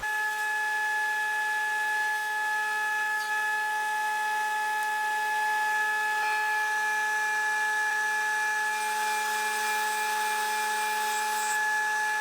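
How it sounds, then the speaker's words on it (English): A planer machine feeding oak window glazing beadings runs with a steady, droning mechanical whine and hum, constant and moderately loud throughout, with no speech. "I've just run all them beadings through in this plane"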